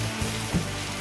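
Okra and green chillies cook in hot oil in a pan, giving a soft, steady sizzle that lasts about a second, with no talk.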